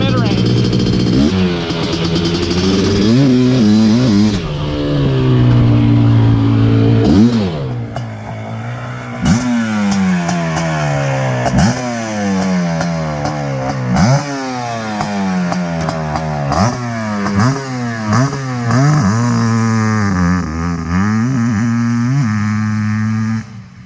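Suzuki Quadzilla LT500R ATV two-stroke engine with freshly adjusted jetting revs repeatedly, loud and close, rising and falling in sharp bursts that climb cleanly to the top, with people talking over it.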